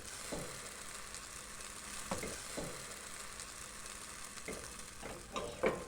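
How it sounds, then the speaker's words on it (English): Grain-free crepe batter sizzles softly in a hot pan, a faint steady hiss broken by a few small crackles and a light scrape near the end. "Let you listen to the sizzle."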